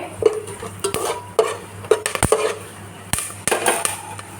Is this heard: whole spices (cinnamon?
yes